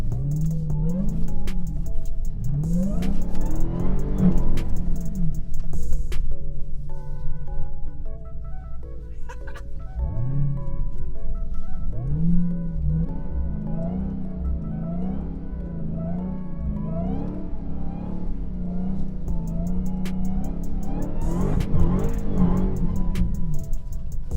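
A 2020 Dodge Charger Hellcat Widebody's supercharged engine revving hard on a snowy winter street with traction control off, loud, rising and falling through repeated bursts and sustained high-rev runs, close by.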